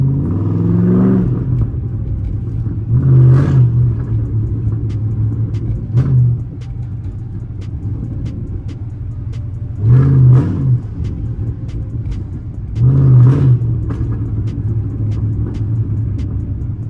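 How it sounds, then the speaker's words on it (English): 2013 Chrysler 300C exhaust revving in repeated short bursts, loud deep blips separated by a steady low idle rumble, heard up close with no talk. "That motherfucking exhaust sound crazy."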